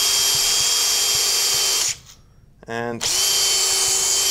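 Power drill boring a countersink into a carved wooden kuksa cup gives a loud high whine that cuts out briefly midway, followed by a short rattling burst, then resumes steadily; a voice speaks briefly over it.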